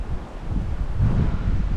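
Strong wind at a lookout near Bowral, Australia buffets the microphone in heavy low rumbling gusts, loud and close throughout the short stretch.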